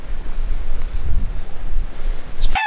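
Strong wind on Lanzarote buffets the microphone at sunrise in heavy, uneven low gusts, with a rushing roar like surf underneath.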